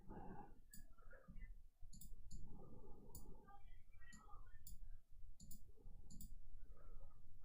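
Automated mouse clicks from a script-driven click game sound as sharp, evenly spaced ticks in quick pairs and bursts across the stretch, over a low background hum and murmur.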